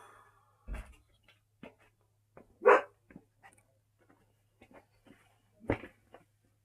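A dog indoors barks sporadically at noises outside, with a few short, scattered woofs and soft sounds spread over a quiet room, some fairly near, others faint.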